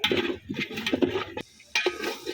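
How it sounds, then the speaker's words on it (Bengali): Spice paste for a beef curry with potatoes is stirred and fried in oil in a pot, with close, irregular metallic scrapes and clinks of the spoon against the pan and a brief pause midway. "এখন আমি ভালোভাবে মশলাটা একদম কষাইয়া তেলের ফুটাই নেব"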